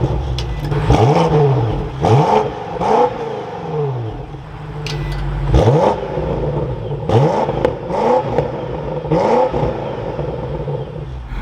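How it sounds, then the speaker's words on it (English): A 2025 BMW X6M Competition engine is revved repeatedly nearby, each loud blip rising and falling in a regular series of deep throaty surges over a steady idle. "So let's fire this up, take a listen to how this sounds."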